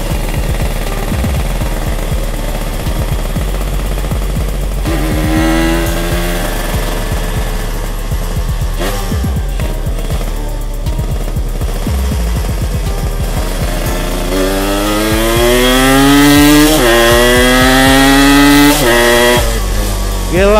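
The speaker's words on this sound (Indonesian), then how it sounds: "Jadi ini menggunakan knalpot yang standar yang udah dibedel. Jadi suaranya tuh ngebas ya" A Yamaha RX King-style two-stroke motorcycle with a modified open standard exhaust revs loudly and close up, its deep, raspy engine note rising and falling in repeated throttle blips, with voices briefly audible beneath.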